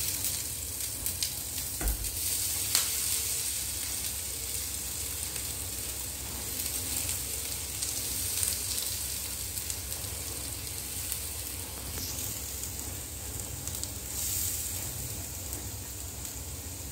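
Crushed garlic and green chillies fry in a pan for a taro stem thoran, giving a steady, even sizzle with occasional stirring scrapes and no talking.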